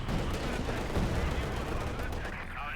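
Tank gunfire in Company of Heroes 2, a dense burst of booming shots with a rumbling low end as a shell bounces off a Panther, loud and continuous, with faint voices mixed underneath.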